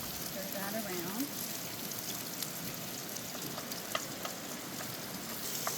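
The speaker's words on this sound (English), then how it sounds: "this is half of a white onion that I've chopped up. Stir that around." Half a chopped white onion fries and sizzles steadily in a hot pan, a continuous soft crackle with occasional scraping stir sounds, fairly faint and close, with no talk over it.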